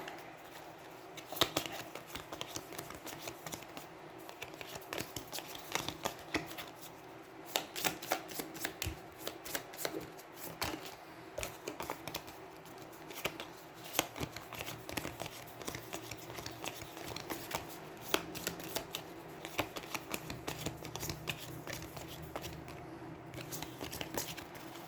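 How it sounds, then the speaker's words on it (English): Card deck for the Trog enemy in the Aeons End board game being shuffled, a steady run of crisp, riffling snaps and flutters that repeat close by for the whole stretch, with no talking. "shuffle the Trog deck."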